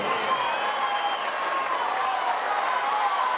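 An audience at a concert claps steadily throughout, a continuous bed of applause with some crowd noise and musical tones underneath.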